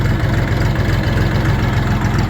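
A small Chinese RD 244 LUX tractor engine idles close by, a steady, loud low chugging with an even rhythm throughout, no voices.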